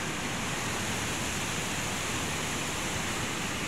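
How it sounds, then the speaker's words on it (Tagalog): Rushing river water near a garden, a dense, continuous, even roar of flowing water at close range with no breaks. "So, ganun ang ilog dito."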